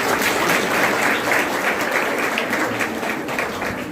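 An audience claps steadily for several seconds at a college Women's Day celebration, a dense, close wash of many hands with no voices standing out.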